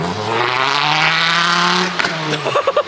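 A Volkswagen 2.5 engine revs hard and steadily, then drops and sputters in short bursts, loud and close.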